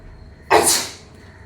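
A single sharp sneeze bursts out close to the microphone, loud and sudden, then trails off quickly into a quiet room.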